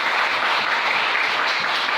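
A church congregation applauding the Lord during worship, producing steady, dense, fairly close clapping that holds an even level throughout with no voices on top.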